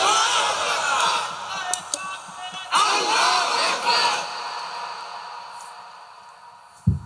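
A large crowd at a Bangladeshi religious gathering shouts takbir together, a loud, sustained massed roar that swells in two waves and then fades into quiet.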